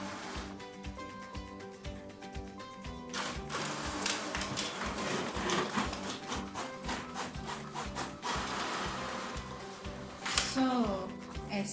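A printer copies a document fed through its automatic feeder, giving a steady rhythmic mechanical thumping and whirring, close and continuous, with a brief louder clack near the end.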